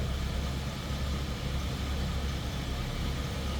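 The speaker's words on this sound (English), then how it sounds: "just sounds like you'd expect an 80 Olds Toronado to sound" A 1980 Oldsmobile Toronado idles with a steady, low, rumbling engine and exhaust note, constant and unbroken throughout with no voices over it.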